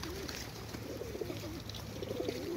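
Pigeons coo softly and repeatedly in a low warbling murmur, several birds overlapping, quiet and close against faint background noise.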